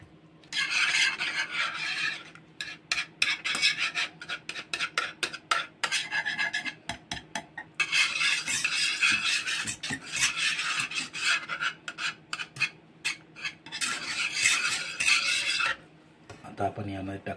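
A spoon rasps and scrapes against a bowl while mixing two spoonfuls of milk cream (malai) for paneer malai modak, in repeated close strokes with brief pauses between bursts.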